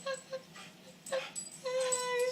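Chewie, a pet dog, lets out a series of high, thin whimpers and drawn-out whines, close and moderately quiet, rising and falling over a soft background hiss.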